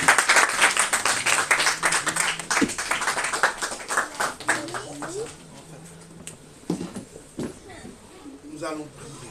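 A church congregation claps together during a worship service, a loud burst of dense applause that fades after a few seconds, with voices speaking and calling out over and after it.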